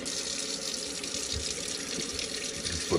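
Water runs from a tap into a pot for pasta in an RV kitchen, a steady close rushing hiss that continues evenly throughout, ending with a small knock.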